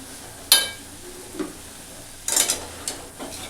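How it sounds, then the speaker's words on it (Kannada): Leftover rice being stirred into seasoning in a frying pan for cabbage fried rice, a low sizzle broken by several sharp scraping stirs and a clink of the spatula, close and without talk. "ಇವಾಗೆಲ್ಲ ಇದ್ರೊಳಗೆ ಹಾಕಿ ಮಿಕ್ಸ್ ಮಾಡ್ಕೋತೀನಿ"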